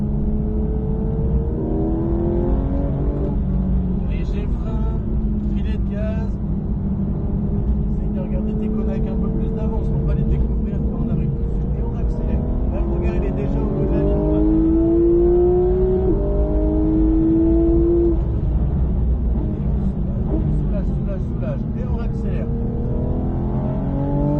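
A car accelerating on a driving course, its engine droning loud and steady close by with rising revs, while an instructor talks over it throughout.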